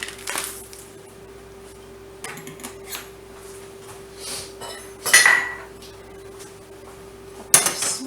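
Metal cookware clatters as a lid goes onto a pot of lemony shrimp and caper pasta: a few sharp clinks and scrapes at irregular intervals, close by, over a steady low hum with no talk.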